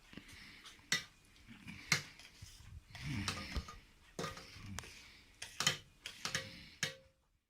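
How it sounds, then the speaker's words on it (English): Sugar being stirred into homemade grape syrup in a pot, a series of scraping, clinking strokes of a spoon against the pot at an irregular rhythm, close and moderately loud with no talking. "And I will mix it with this properly."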